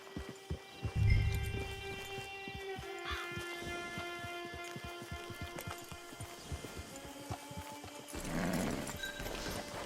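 Horse hooves clip-clop at a steady walking pace in a Red Dead Online camp, soft and fairly close, with faint ambient animal calls and a brief louder rustle near the end.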